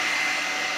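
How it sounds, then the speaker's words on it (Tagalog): Hair blow dryer running, a steady close whooshing airflow with a high motor whine, unbroken throughout this brief moment. "it's like hair blow dryer"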